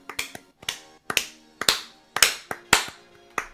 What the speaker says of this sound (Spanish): Un aplauso así.